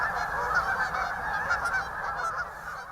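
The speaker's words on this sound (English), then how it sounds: "Millions of geese, sandpipers, and ducks all flying back north this spring." Geese honking on spring migration, a steady dense chorus of many calls overlapping continuously at moderate distance, with no talk.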